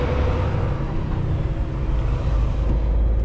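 Steady, loud low-pitched rumble of a Peterbilt truck rolling down a West Coast highway, continuous engine and road drone throughout with no voices.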